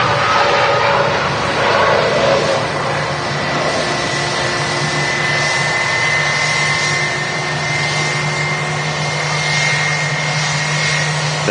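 A TUI Dreamliner jet passing a couple of hundred feet overhead near Manchester Airport under very low cloud gives a loud, steady, broadband engine roar with sustained whining tones, filling the whole stretch without letup and with no voices.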